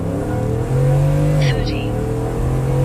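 A stock 5.0 Coyote Ford F-150 pickup, custom tuned and in two-wheel drive, launching at full throttle: a loud, close, steady engine roar rising in pitch, with a brief chirp partway through.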